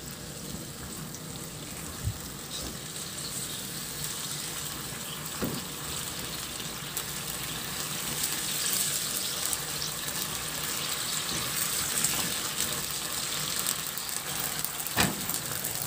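Water poured from a tap or container into a pot of cooking okra, a steady soft rushing pour running continuously and growing slightly louder, with a few faint clinks.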